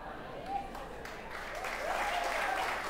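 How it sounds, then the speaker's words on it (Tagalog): A church congregation applauding for Jesus during a Sunday service, a soft, steady wash of many hands clapping at a distance, swelling slightly toward the end with faint voices mixed in. "yung sunod kong palakpak, para kay Jesus na talaga"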